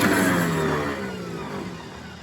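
A Willys Hurricane Jeep engine running with a hand held over the intake to choke it, a loud, close, rough idle with a strong low hum that gradually eases and settles, no voices.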